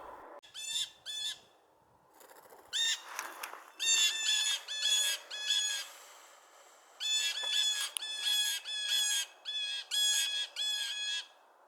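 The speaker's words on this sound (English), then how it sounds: "Feisty Jay ended up getting pretty vocal, which caused the other jays to get vocal as well" Several jays call loudly and harshly, trading repeated squawking bursts in quick series with brief gaps, close by and without voices.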